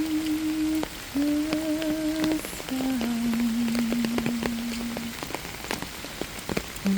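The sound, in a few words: rain falling, rain sound white noise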